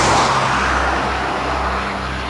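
Heavy trucks rumble past on a road at night, a broad, loud roar that swells at the start and then holds as a steady wash of traffic noise.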